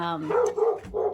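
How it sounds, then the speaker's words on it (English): A dog barks indoors, three quick close yapping barks in a row, loud and clear with no talk over them. "sorry about the dog."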